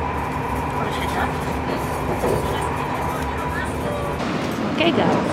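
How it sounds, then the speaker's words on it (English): A passenger train rolls into Bordeaux station, with a steady rumbling ride, faint rail clacks and a low hum running evenly throughout. "It was like 40 minutes train journey."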